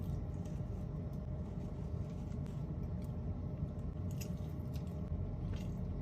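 Someone chewing Chili's baby back ribs, tough rather than tender meat, with continuous close, wet mouth sounds and biting over a steady low background, no talking.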